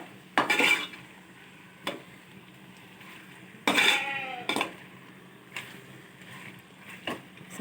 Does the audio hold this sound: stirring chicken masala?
yes